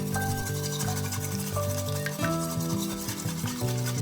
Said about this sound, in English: Crack 1 large egg in a shallow dish. Add ½ a tablespoon of neutral oil and beat them together.